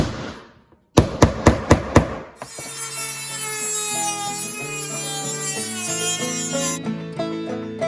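A hammer strikes a punch on a Swiss military surplus axe in four sharp, evenly spaced metallic blows, followed by a sustained ringing tonal hum that fills the rest of the moment.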